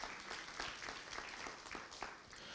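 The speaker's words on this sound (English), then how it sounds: "Let's give her a round of applause as she walks down." Very faint, distant applause at a pan-African conference on illicit financial flows and taxation as a speaker leaves the stage, a soft scattered patter of claps that barely rises above the room.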